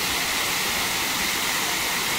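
Chunayanmakkal waterfall in Kerala pours in a steady, dense roar of rushing water, loud and continuous from close by, with no voices over it.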